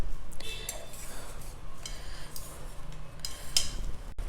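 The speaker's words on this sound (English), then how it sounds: "First, loosen it out from the edges with a wet spoon like" Wet spoon scraping around the edges of a steamed Thatte idli on a metal plate, a series of light metallic scrapes and clinks in irregular bursts, close and fairly quiet.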